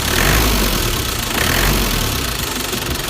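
A Nissan Big-M pickup's engine idles steadily at close range, a loud, even rumble with a faint knocking pulse and no voices over it.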